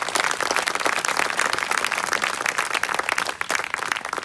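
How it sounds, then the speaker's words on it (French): Dense applause from a comedy roast audience in Aix-en-Provence for comedian Tristan Lucas, a steady wash of clapping throughout. "Quand même, on peut applaudir, messieurs, dames"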